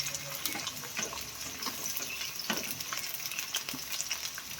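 Carrots and other vegetables fry in hot oil, a continuous bright crackling sizzle with some watery hiss and soft stirring scrapes, fairly close and moderately quiet, with no speech.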